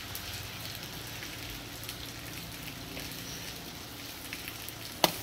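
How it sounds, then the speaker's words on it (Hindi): Steady winter rain in Dadyal hisses evenly throughout, a dense wash of patter with one sharp click near the end. "आज तो बारिश का मौसम है"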